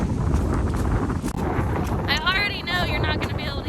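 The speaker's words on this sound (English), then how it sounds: "You're not going to be able to hear me because of the wind." Strong gusty wind buffets the microphone outdoors on the Appalachian Trail in the Smokies, a loud continuous roar with surging gusts, while a voice talks faintly beneath it.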